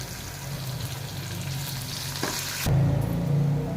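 Garlic frying in hot oil in a pan with green chillies for North Karnataka-style girmit mandakki, a steady close sizzle that surges louder partway through as more goes into the pan.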